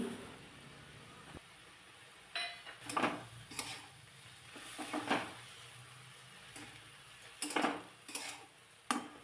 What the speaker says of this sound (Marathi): आता ही जी मुगाची डाळ मी भिजत ठेवली होती, भिजवलेली डाळ यामध्ये घालते